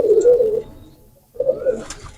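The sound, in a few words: golden pigeon chicks cooing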